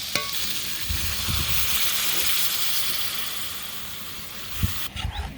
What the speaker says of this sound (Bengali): এখন আমি ঝোল দিয়ে নেব